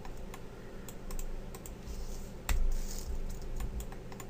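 Computer keyboard keys are pressed in short irregular clicks, including a sharper, louder keystroke like the Enter key near the middle. The typing is close and fairly quiet.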